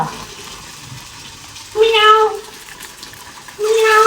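A cat meows twice in a kitchen where fish is being fried, each call clear and fairly close, separated by a pause and set over a low background of cooking and household noise.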